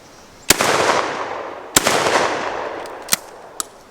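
Shotgun blasts fired at a pattern target outdoors, two loud close booms each trailing a long echo, then two sharper, fainter cracks.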